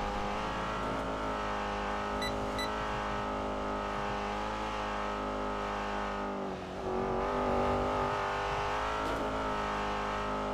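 A car engine drones steadily while driving in the video game GTA 5, a constant, moderately loud hum with a slight dip and swell partway through, with no voices over it.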